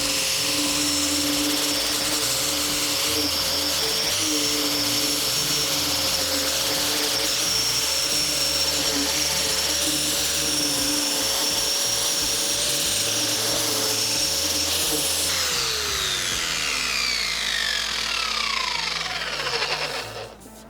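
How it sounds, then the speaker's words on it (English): An angle grinder fitted with a 60-grit flat sanding disc grinds the paint off a vintage police car. A loud, steady high whine with a rough grinding texture continues for a long stretch, then the pitch sweeps down as the tool spins down. "we've got a flat disc here that's 60 grit and it should take it off pretty quickly"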